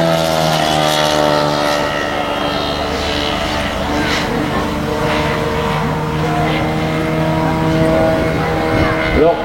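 A large aircraft flies over an air show meeting at Tyrosse in 2012. It gives a loud, steady droning engine roar with layered humming tones that holds for the whole stretch, with voices talking underneath.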